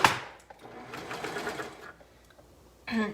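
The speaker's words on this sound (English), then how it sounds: "we're gonna sew the neck on all the way around" A sewing machine stitches a cowl neck onto a sweatshirt with a steady mechanical whir that runs, pauses briefly and starts again in short bursts, close and clear with no talking.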